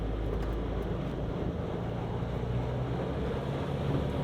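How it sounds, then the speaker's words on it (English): A dual-cab pickup's engine drones steadily under load while crawling off-road, a continuous low rumble mixed with heavy wind buffeting on the microphone, with no clear rise or break across the stretch. "I'm gonna roll into the throttle there."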